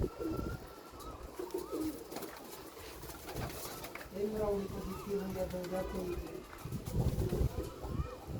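Racing pigeons, including a winning hen from a Haryana race, coo in a loft in soft repeated bursts, mixed with nearby talk and background bird noise.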